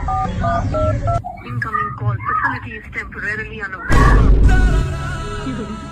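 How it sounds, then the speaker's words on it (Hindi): A quick series of phone keypad dialing tones, followed by someone talking and a loud burst of noise. "अब लगा तेरे बाप को फोन।"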